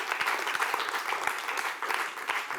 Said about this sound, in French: on peut encore applaudir Thomas